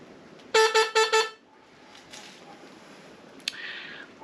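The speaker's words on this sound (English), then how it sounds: "My horn that is mounted straight to the aluminium piece there sounds like this." A Honda Grom MSX-125 motorcycle horn mounted directly to an aluminium piece gives four quick, loud, buzzy toots in a row, followed by quiet background noise and a faint brief sound near the end.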